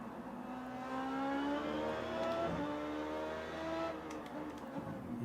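A race car engine in a sim racing game screams at high revs, rising in pitch along a straight, briefly dipping at a gear change, then climbing again before easing off, steady and unaccompanied by voices.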